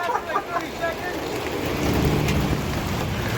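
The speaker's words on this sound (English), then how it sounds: "Joel, I think it's raining." Steady rain patters and hisses outdoors in a garden on a hot day, a dense broadband wash that swells slightly louder midway through, with no voices over it.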